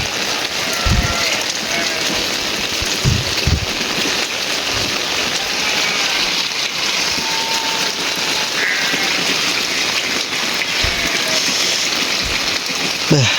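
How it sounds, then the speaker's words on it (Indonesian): Steady rain falls over village rice fields and a fishpond, a dense even hiss of drops on surfaces with a few low thumps near the start and end. "Bikin nikmat ya suasana hujan, tidur pun nikmat ya, lelap seketika ya."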